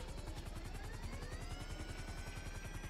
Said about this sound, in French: Qu'est-ce qu'il y a, mon hélico? Pourquoi il fait ce bruit?